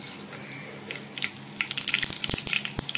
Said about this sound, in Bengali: এবারে 5 ফোড়ন আর শুকনো লঙ্কাটা ভালোভাবে আমি একটু তেলের সঙ্গে ভেজে নিচ্ছি।